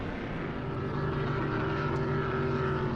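Powerboat P1 SuperStock V-bottom racing boat carving a turn in exhibition racing at Madison, Indiana, its engine a steady, loud droning roar throughout with no pauses.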